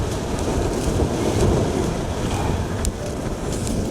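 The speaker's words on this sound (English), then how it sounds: "It's windy up here." Strong wind roars across the open granite summit of Steeperton Tor on Dartmoor, buffeting the microphone with constant low rumbling gusts and a few sharp bumps.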